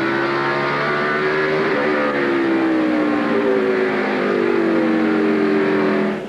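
NASCAR stock cars roar around the track at the 2002 Old Dominion 500, a continuous loud engine drone with rising and falling pitch as the cars race past together.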